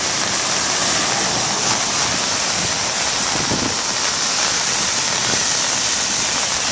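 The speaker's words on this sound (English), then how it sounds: "And now look at this bloody rain." Heavy rain pours down outdoors in a steady, dense hiss and roar that holds unbroken throughout, with no voices over it.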